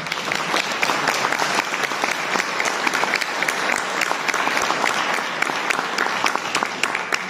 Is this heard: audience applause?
yes